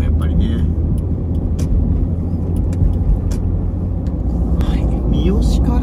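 Heavy car traffic on the expressway from Niigata to Chiba heard from inside a moving car, a steady loud road rumble and engine drone, with a person talking over it.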